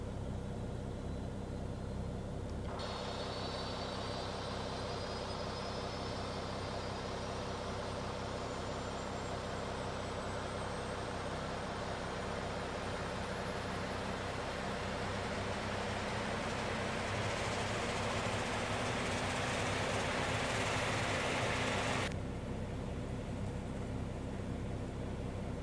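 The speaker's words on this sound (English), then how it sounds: "that's engine number 2 starting now" Dash 8 Q400 turboprop engine number 2 spooling up during start in the X-Plane 11 simulator, a steady loud drone with a rising whine that climbs over about twenty seconds, then cuts back abruptly near the end.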